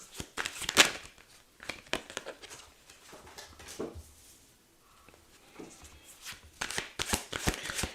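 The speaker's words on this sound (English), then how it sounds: "usually it takes a while to have these cards shuffled" Tarot cards are riffled and shuffled in quick, crisp bursts with quiet pauses between them, close by and fairly soft.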